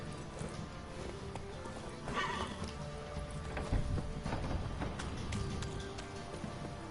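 Hooves of Roach, the horse in The Witcher 3, clop steadily while a neigh rises early on, all fairly quiet and close, with no speech.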